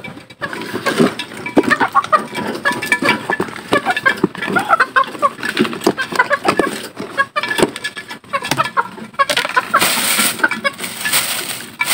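Backyard chickens cluck busily while being fed, a dense, loud, continuous chatter of clucks and calls close by, with no one speaking over it.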